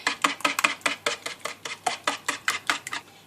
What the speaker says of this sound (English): Now I'm going to mix that together thoroughly. I find that's easiest with a whisk.